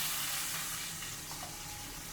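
Butter, garlic and rosemary sizzling in a pan, giving a steady, dense hiss of frying that stays close and fairly loud throughout, with no voices.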